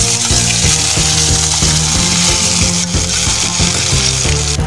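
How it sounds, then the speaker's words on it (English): Hing, ginger and green chili paste sizzle loudly in hot oil for a samosa potato stuffing, a steady dense frying hiss with a rhythmic scraping and stirring pulse underneath, close and continuous with no talk. "Now I will put hing 2 or 3 pinch on it and put ginger and green chili paste."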